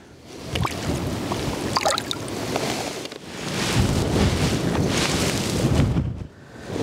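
Wind gusting over an open stillwater trout lake while fly fishing, a steady broadband rush that swells louder in the second half and drops briefly near the end, with no talking.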